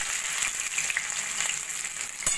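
Chopped capsicum and four chopped green chillies sizzle and fry steadily in hot oil in a wok, a close, continuous crackling hiss with no talk.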